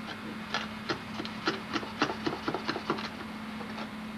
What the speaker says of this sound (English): You start working. Gouge like that.